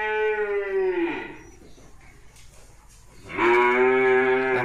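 F2 cattle on a farm give two loud, close moos, one long low call fading after about a second, a quiet gap, then a second strong bellow rising in.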